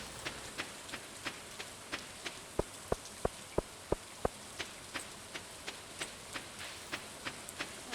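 Steady rainfall in the Stardew Valley video game, a soft continuous patter with regular light drip ticks repeating through the scene, alone with no talking.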